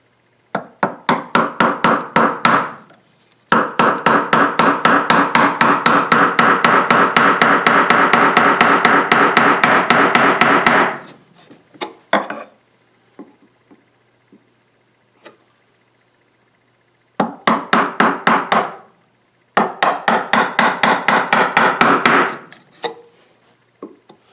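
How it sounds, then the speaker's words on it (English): A mallet strikes a 3/8 chisel repeatedly while it squares the rounded corners of a wooden mortise, producing long rapid runs of sharp close knocks broken by short pauses and a few isolated taps. "just take a 3/8 chisel and square those up real quick"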